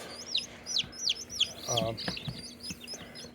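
Several short chirpy bird calls repeat across the clip, with a brief low clucking from a young Liege fighter rooster in the middle, fairly close over faint background noise.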